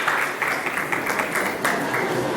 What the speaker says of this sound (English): round of applause, Cindy Zilwa